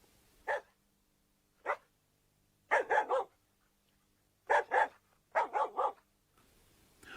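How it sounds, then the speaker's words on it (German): Wolves giving loud, dog-like warning barks to their pack, a series of sharp barks in separate bursts, single at first, then clustered in quick doubles and triples, close and clear over a quiet background. "dieses hundeartige Bellen ist nicht umsonst so laut. So warnen Wölfe ihr Rudel vor Gefahren."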